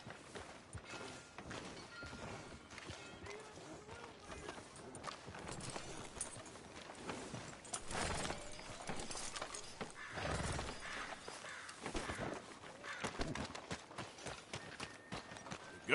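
Horse hooves clip-clopping in the Red Dead Redemption 2 video game, a quick run of close, sharp hoof strikes mixed with clattering street sounds and no talk.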